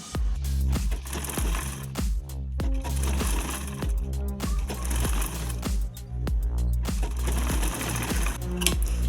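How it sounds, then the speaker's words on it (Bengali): A sewing machine stitches the neckline of a dress, its needle running in rapid mechanical bursts with short pauses and clicks between runs, loud and close, with no talking. "প্রথমেই ড্রেসের যে গলার ডিজাইনটা গলাটা সেলাই করে নিব"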